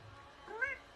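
A kitten gives a single short, faint meow near the end of a quiet second.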